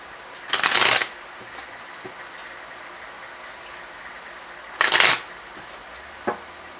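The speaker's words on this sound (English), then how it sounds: "And shuffle one more time." Tarot cards are shuffled in two quick riffling bursts a few seconds apart, with a soft tap or two in between and no talking.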